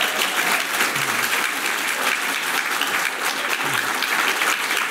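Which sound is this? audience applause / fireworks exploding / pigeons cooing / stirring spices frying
audience applause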